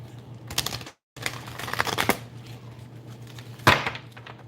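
A deck of cards being shuffled close by in two riffling bursts, split by a brief silent gap, then a sharper snap near the end.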